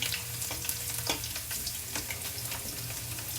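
Chopped garlic fries in a pan, crackling and sizzling steadily up close with small irregular pops, alone without talk over a low background hum.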